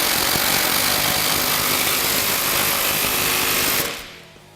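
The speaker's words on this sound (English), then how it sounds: "Today I'm going to grab a 19 wrench, 19 socket, and then we're just going to tighten it all up." A 19 mm wrench and socket tighten a nylock nut on heavy-duty tie rods of a Honda Talon 1000R, heard as a loud, steady, fast whirring buzz that cuts off near the end, with no talking.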